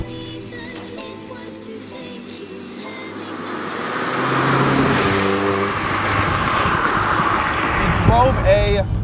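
A 2016 Mazda MX-5 Miata with its four-cylinder engine out on a drive, a steady engine hum and road noise that swell as it accelerates, with rising tones near the end and a voice talking over it.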